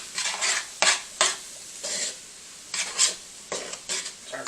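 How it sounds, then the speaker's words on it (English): Chopped vegetables are stirred in a pot for alligator sauce piquant, with a spoon scraping and clinking against the metal in irregular bursts over a faint sizzle, close up and without speech. "Stir it over here."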